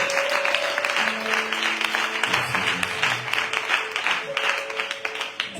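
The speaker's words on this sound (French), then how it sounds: "Vos acclamations sont tellement froides." Applause from a church congregation during a French-language sermon, a steady clapping wash lasting throughout with voices and sustained tones layered over it.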